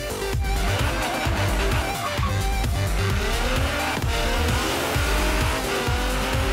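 A car in the racing game Forza Horizon 3 launches from low revs, its engine droning loud and steady throughout, with rising revs and tire squeal in a continuous game mix.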